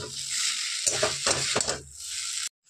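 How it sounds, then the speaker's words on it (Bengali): Chopped vegetables with a pinch of turmeric sizzle in a hot wok, a steady bright hiss broken by a few scraping stirs, close and alone before cutting off abruptly. "সবজিগুলো কড়ার মধ্যে দিয়ে দিয়েছি ভাজার জন্য"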